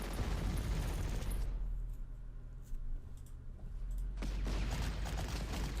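Artillery shells enemy units in the Panzer Corps strategy game, a dense burst of gunfire and blasts that drops into a quieter rumble before another heavy volley returns.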